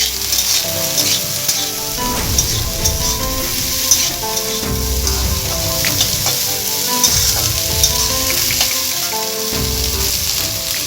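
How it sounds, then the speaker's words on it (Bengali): Potato pieces fry with salt in a pan over low heat for a capsicum corn malai masala. A loud, continuous sizzle sits close by, with repeated scraping stir strokes and no talking. "এরপরে আঁচ কমিয়ে রেখে আমি এগুলোকে ভাজতে দিচ্ছি"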